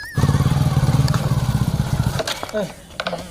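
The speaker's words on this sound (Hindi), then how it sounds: "जा चुपचाप बाइक लेके आओ और बाइक से चला" Motorcycle engine running steadily at close range, a pulsing, chugging drone with regular beats that holds for about two seconds before dropping away, with a brief voice heard faintly near the end.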